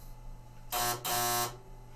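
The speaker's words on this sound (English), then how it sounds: "Is that buzzer normal?" A pinball machine buzzer sounds in two loud, steady harmonic bursts, about a quarter-second then three-quarters of a second long, separated by a brief gap over a faint background hum.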